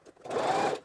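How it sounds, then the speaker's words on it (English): A sewing machine stitches fabric while a skirt is being sewn, running in a steady, loud mechanical whir up close for just under a second after a brief quiet start. "And now, continue sewing."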